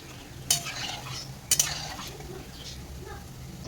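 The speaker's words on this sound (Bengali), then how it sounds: "এখানে ভাজা চলছে এদিকেও ভাজছি" Food fries in a pan with a soft sizzle beneath two sharp utensil strikes and stirring scrapes, close and moderately quiet.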